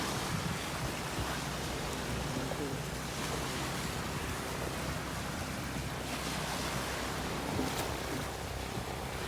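Sea waves wash steadily over a wide sandbar beach in Concepcion, Philippines, a continuous hissing surf roar with faint wind buffeting the microphone.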